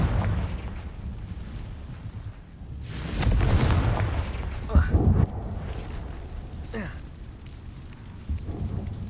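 Booming Confringo fire spell blasts from Hogwarts Legacy erupt in a heavy burst near the middle, with rumbling and further softer impacts around it, and a voice speaking intermittently between them.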